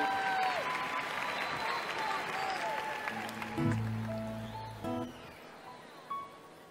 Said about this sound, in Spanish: Fuerte el aplauso para recibirlo.